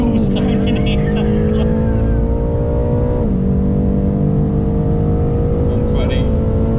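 A BMW M8 drives hard around the Silverstone circuit, its engine loud and close, rising in pitch through the gears with a sharp shift partway, while a voice talks over the steady roar.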